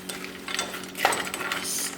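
Carrot, green beans and green peas stirred with onion in a frying pan, making a steady sizzle with scraping and clinking utensil strokes, close and fairly loud.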